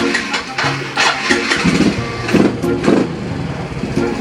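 A car engine cranks and turns over with a rough, uneven rumble, accompanied by clicking and faint background voices.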